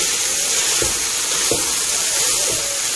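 About 2 pounds of ground beef browning in a pan for spaghetti sauce, giving a steady, even sizzle broken by a few soft knocks as the meat is chopped up.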